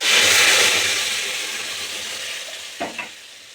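Strained tomato pulp, seeds and skins removed, hits hot oil in a kadai with a loud burst of sizzling that slowly fades, followed by a short scrape of stirring near the end.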